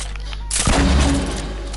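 A grenade launcher firing in a multiplayer video game lets off one loud, sudden blast with a heavy low rumble that trails off over a steady background hum.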